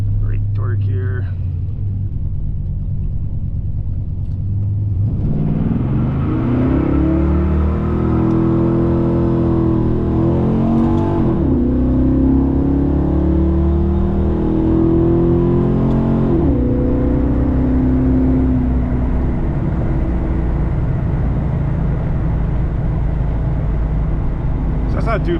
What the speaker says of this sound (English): do a little bit of a brake torque here.